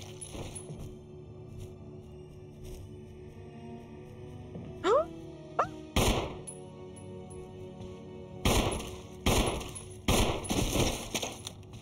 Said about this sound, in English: Okay, 3 shots.